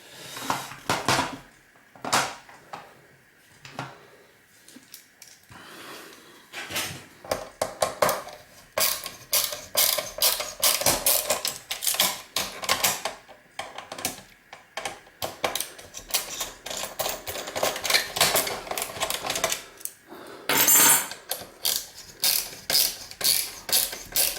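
A screwdriver working screws out of a PlayStation 3 board cover, giving dense clicking, ratcheting metal ticks and small rattles in quick irregular bursts with brief pauses, close and moderately loud.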